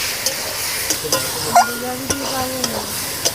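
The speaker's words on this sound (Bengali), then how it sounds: "হলুদ আর লবণটা দিয়ে ভালো করে আমি ভেজে নেব।" Karamcha being fried with turmeric and salt in a pan, a steady close sizzle broken by repeated sharp clinks and scrapes of a stirring spoon, with a faint voice underneath.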